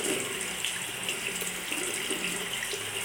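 Cold water runs steadily from a tap to wet a makeup sponge, an even, close hiss of flowing water that holds unbroken throughout.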